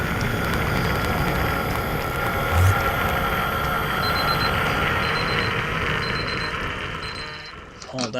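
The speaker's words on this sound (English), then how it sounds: "That was the timer. It went off a little prematurely." A timer alarm goes off as a run of short, evenly spaced high beeps, fairly faint beneath a dense, noisy background with voices.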